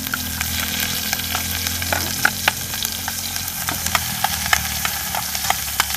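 Onions fry in a pan with a steady sizzle, with scattered clinks of a spoon or ladle stirring against the pan throughout, recorded close with no talking.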